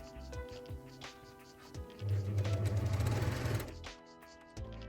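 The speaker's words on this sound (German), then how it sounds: "ich führe jetzt wirklich genau meine Markierung unter die Overlock, beziehungsweise bei eurer Nähmaschine. Und nähe genau dort los" An overlock sewing machine stitching fabric along a marked seam, a loud rapid mechanical hum lasting about two seconds between quieter handling sounds and brief talk.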